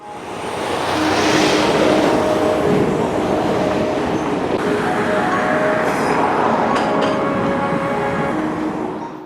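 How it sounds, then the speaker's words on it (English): Norfolk Southern 282, a freight train, rolls past near an Atlanta rail yard, giving a loud, steady rumble of wheels and cars with faint metallic squeals, heard alone without talk. "Norfolk Southern 282 got lined right up behind it as they extended past the yard limits"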